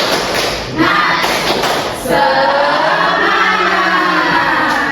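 Classroom of third-grade primary pupils doing a rhythmic spirit-clapping chant, with loud, close, dense group claps and thumps mixed with children's voices, breaking off briefly before a fuller burst of clapping and chanting.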